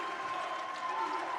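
Republic fans clap behind the bench at a high school boys basketball game against Joplin, a steady wash of applause mixed with crowd murmur throughout.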